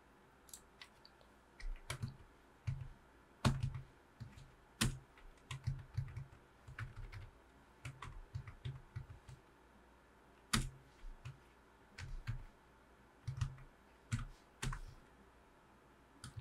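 Typing on a computer keyboard in irregular bursts of crisp key clicks with short pauses between, close and quiet, no talking.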